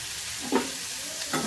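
Tomato masala with salt, turmeric and chili powder for a Bhola fish jhal is stirred and fried in a pan: a steady close sizzle with a couple of louder scraping stirs, no talking.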